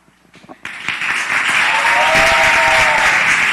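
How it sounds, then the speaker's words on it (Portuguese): An audience at a Catholic Carnival retreat session with priests breaks into loud, sustained applause after a brief quiet start, the dense clapping holding steady with a few faint cheers mixed in. "Muito bem, vamos aplaudir, minha gente."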